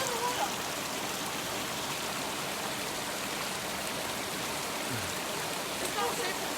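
Water pours steadily from a waterfall into a cold, clear stream, a dense, even rushing wash that fills the whole scene without pause.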